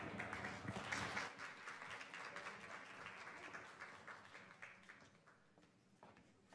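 An audience applauds after a conversation on fashion, the clapping quiet and distant, strongest early and slowly tapering off.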